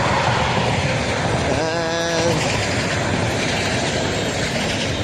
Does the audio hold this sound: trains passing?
yes